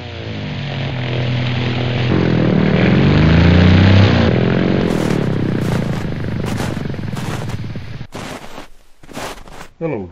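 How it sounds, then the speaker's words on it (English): A propeller plane approaches, its loud engine drone rising and swelling over several seconds, then fading into quieter rustling and short knocks, with faint voices underneath. "there's a plane coming."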